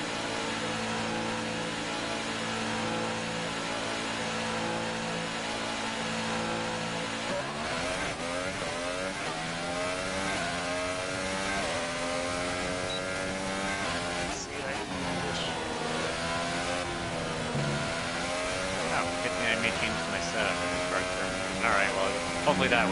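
Formula 1 race cars in the F1 2018 video game roar steadily, one engine droning at first, then several cars rising and falling in pitch as they accelerate and pass, a continuous loud engine wash throughout.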